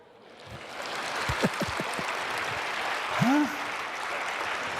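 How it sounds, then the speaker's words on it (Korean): Congregation applause during an overnight church worship service, a continuous wash of clapping that swells and holds, with a few voice fragments and a brief vocal exclamation over it. "이래 박수 쳐버리면"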